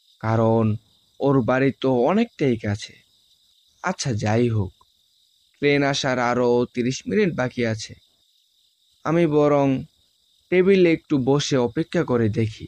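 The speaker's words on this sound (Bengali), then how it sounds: "চারপাশে ঝিঝি পোকার ডাক" Crickets chirp steadily in a Bengali cartoon scene at a quiet railway station, a faint, continuous high trill running underneath a narrator who speaks throughout.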